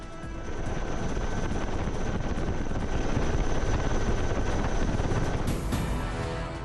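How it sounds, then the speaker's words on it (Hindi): Military aircraft in a naval flypast over a warship, including the carrier INS Vikrant: a loud, continuous roar of engines and rotors that stays steady overhead. "फ्लाईपास में शामिल हुए 30 से अधिक विमान"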